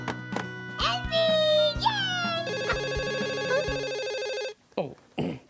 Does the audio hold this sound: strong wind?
no